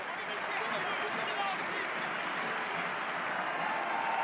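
Home fans at a Toulon vs Montpellier Top 14 rugby match cheer and applaud as a player returns to the pitch, a steady, broad crowd roar and clapping heard at a distance throughout.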